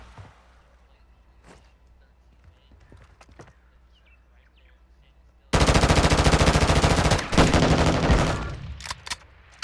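Rapid automatic gunfire erupts loud and close in a shooter video game, a sustained burst followed by scattered shots, after a quieter stretch with faint clicks and a voice speaking.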